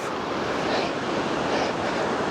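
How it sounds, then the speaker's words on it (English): Roaring mountain stream below a steep, rain-soaked hiking trail on a Colorado fourteener, a steady broadband rush of water that stays loud and continuous throughout, with no voices. "The stream down there is beautiful at the sound of the roaring water."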